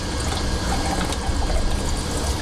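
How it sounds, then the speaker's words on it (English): Water from a tap pours steadily through an aquarium sponge filter being rinsed, a continuous close, loud rushing splash with no pauses. "we get that flow of water going right down through the hole."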